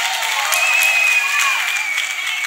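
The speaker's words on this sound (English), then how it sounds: "Let us once again clap for Master Jesus." A church congregation claps together in sustained, dense applause, steady and loud throughout, with a faint voice briefly rising over the clapping.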